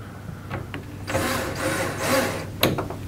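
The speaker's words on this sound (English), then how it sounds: "we are using a screw gun on this" Screw gun driving screws into a Dane wall bed and bookcase assembly: a couple of whirring bursts of the drill close by, rising and falling over about two seconds, ending with a sharp click.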